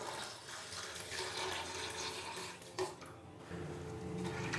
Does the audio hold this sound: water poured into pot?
yes